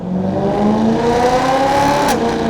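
A BMW E92 M3 with a full custom exhaust system revs loudly and continuously, the engine note rising and holding with a rich, throaty tone.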